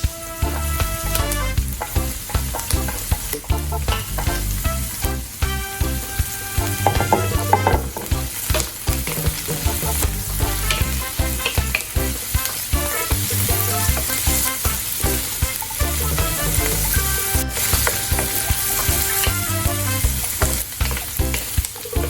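Garlic fries and sizzles in a pan for pork spareribs mechado, a dense and steady hiss with constant crackle that carries on loudly without a break and without speech.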